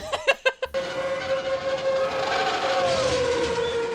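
A train in a Disney animated film sounds a long whistle tone after a few sharp thumping hits, then the rumble and whistle carry on steadily and fairly loud.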